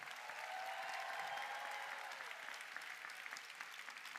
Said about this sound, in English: please join me in expressing our appreciation with a round of applause for our faculty